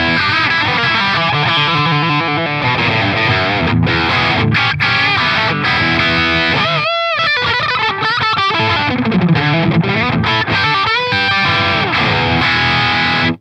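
Electric guitar through an overdrive effect pedal set to Natural Overdrive mode plays chords and riffs continuously, with a brief pause midway before the distorted playing resumes.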